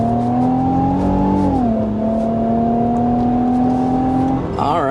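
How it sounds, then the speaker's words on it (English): A 2025 Infiniti QX80 full-size SUV pulls hard from a standstill to just past 60 mph, its engine note climbing steadily with a brief dip at a gearshift, loud and close from inside the cabin, with no talking. "There's a 0 to a little past 60 miles per hour in this all-new 2025 Infiniti QX80"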